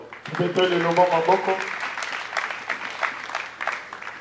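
A church congregation applauding during a sermon, a short burst of clapping and crowd noise that follows a brief raised voice at the start.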